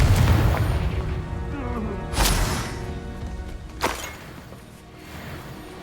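Confringo fire spell blasts in Hogwarts Legacy combat, two sharp booming bursts a couple of seconds apart over a rumbling battle backdrop.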